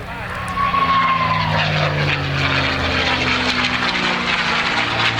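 A North American Aviation Mustang, built at Inglewood, California and delivered to the US Army Air Force in 1945, drones loud and steady with propeller engine noise at an airshow while an announcer talks over it.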